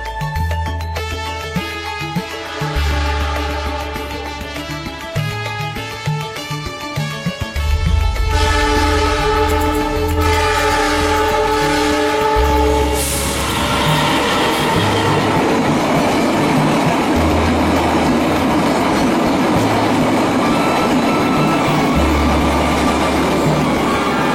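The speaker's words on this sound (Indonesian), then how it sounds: "kami beruntung mendapatkan kereta ketel pagi dari Malang" A morning tanker train of tank wagons from Malang passes close by, starting with long blasts of its horn over the diesel engine, then a loud continuous rumble and rhythmic clatter of wheels on rail joints.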